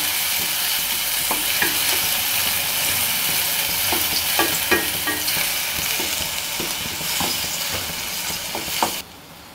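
Amla gooseberries sautéing in a pan for amla rice, a steady close sizzle with repeated spatula scrapes and taps spread through, no talking.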